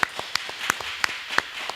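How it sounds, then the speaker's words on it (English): A small group claps unevenly during a church-themed discussion, with sharp distinct claps spaced a few per second over a thin background and no voices. "let's give them a round of applause, everybody"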